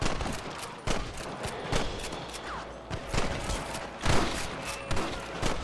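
Gunfire from a shootout with cattle rustlers in Red Dead Redemption 2. Sharp shots crack in quick, irregular succession, some close and loud, some farther off, in a continuous volley with no talking.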